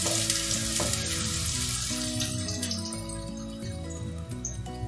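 Corned beef sautés in a pan for a simple home-cooked Filipino ginisang dish, a loud, steady sizzle and frying hiss running throughout with occasional stirring scrapes and no talk.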